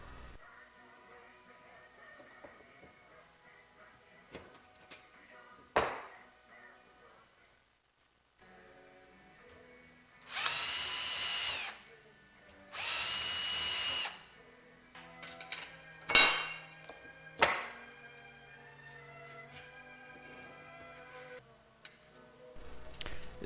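A power drill whirs in two short bursts, opening holes in Van's RV aircraft rudder parts, amid quiet workshop clicks and taps, with occasional sharp metallic knocks before and after.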